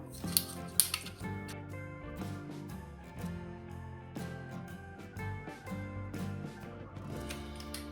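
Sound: round-tipped scissors cutting a plastic bottle

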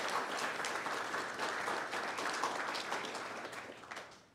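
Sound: audience applause for award winners

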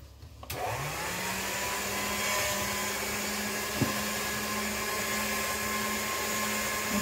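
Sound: polymer clay run through a pasta machine

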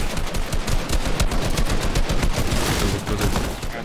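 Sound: gunfire in a shooter video game

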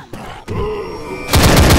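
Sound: full auto shotgun firing in the video game Left 4 Dead

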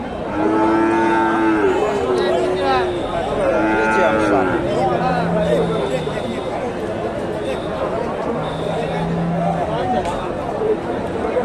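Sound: Friesian bulls and cattle at a cattle market

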